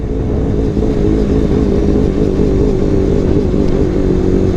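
A Kawasaki ZX2R motorcycle engine revs steadily while being ridden, a loud, close, continuous droning note with slight pitch wavering that sounds a little choked and sputtery throughout.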